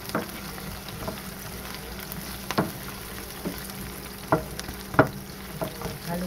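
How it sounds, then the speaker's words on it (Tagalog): Onions sautéing in a pan of oil left from frying crappie fish fillets: a steady, quiet sizzle with occasional soft scrapes and taps of stirring. "igigisa na natin ang ating onions. Ayan, hanggang maging translucent siya"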